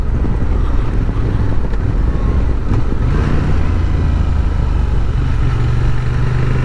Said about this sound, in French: On va tout de suite voir ce que ça donne en virage.